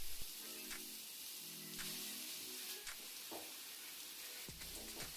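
Carrot paste frying in ghee in a kadai makes a soft, quiet sizzle, broken by occasional scraping stirs and faint clatters.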